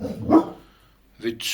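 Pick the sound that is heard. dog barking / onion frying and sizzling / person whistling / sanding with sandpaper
dog barking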